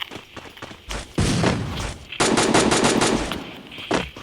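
Rapid bursts of automatic gunfire ring out in a video game match, loud and close, with several rattling volleys separated by short pauses.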